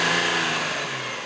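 Nissan 350Z with its VQ35 V6 engine revving, a steady mid-pitched engine note that eases down slightly in pitch and level over a second or so, heard alone without talk.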